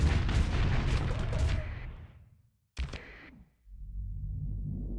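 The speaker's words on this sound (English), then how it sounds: "Shield noise, we got it." A ship's shield switches on in the space combat game Starsector, heard as a sharp synthetic burst that cuts out and returns amid the booming, rumbling din of battle, with no talk over it.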